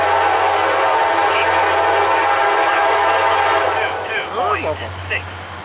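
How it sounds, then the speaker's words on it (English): A CSX local freight train with an EMD diesel locomotive rumbles steadily past, loud and close, then a voice speaks briefly over the fading train noise. "Sounds like an EMD."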